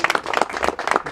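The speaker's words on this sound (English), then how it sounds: "you should go ahead and clap for that" Audience clapping at an outdoor garden party in Santa Ana, California, a brief patter of hands at moderate distance, fairly soft and uneven, with no talk over it.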